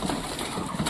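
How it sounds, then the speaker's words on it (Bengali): Pigeons gathering to feed on rice make soft, low cooing over steady background noise, close and moderately loud through a short moment. "সব কবুতর খাওয়ার জন্য চলে আসছে।"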